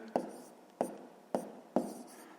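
Pen strokes writing out a sixth-grade math exercise, four crisp taps of the pen followed by short scratchy strokes at an uneven pace, close and quiet, with no talking.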